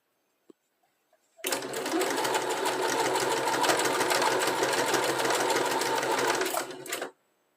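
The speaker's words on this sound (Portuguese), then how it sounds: "agora eu faço uma costura de segurança em toda a volta dela aqui" Sewing machine running a securing stitch around the flap of a handmade phone bag: a near, steady rapid mechanical whir lasting about six seconds after a single click, then stopping abruptly.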